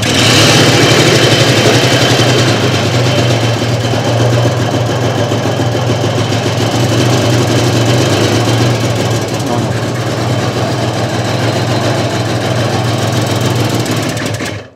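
A Peugeot engine idles after a restart with an unsteady idle, a loud close continuous mechanical chugging and rattling drone that holds for about fifteen seconds before cutting off.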